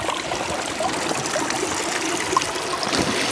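A mountain stream trickles and splashes close by in a steady, continuous wash of water, with faint small drips and gurgles on top.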